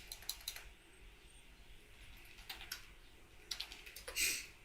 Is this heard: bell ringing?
no